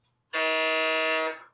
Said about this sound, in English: you will hear a buzzer that sounds something like this